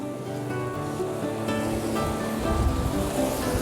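Water of the Blackfoot River rushes over huge boulders, a broad, continuous churning roar that builds slightly toward the end, close and steady with no talk.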